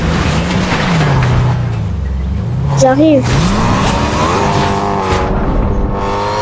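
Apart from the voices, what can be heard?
car driving in a video game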